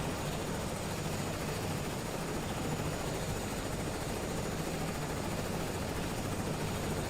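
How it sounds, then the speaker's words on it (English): A helicopter sits at idle, its engine and rotor producing a steady, even broadband whir with a faint high whine, unchanging throughout with no voices. "Helicopter, it's not at full speed, but it is at idle right now."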